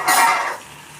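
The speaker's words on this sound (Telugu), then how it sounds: "ఇవ్వండి అదే ఆయిల్లో కొంచెం బచ్చల కూర వేస్తాను." Malabar spinach leaves tossed into hot oil, in a pan where dried red chilies were fried first, hiss and sizzle loudly for about half a second before the sound fades into quiet.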